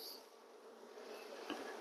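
Honeybees buzz steadily and softly on a frame pulled from a hive, a continuous close hum with no talk.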